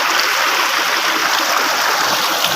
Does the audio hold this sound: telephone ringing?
no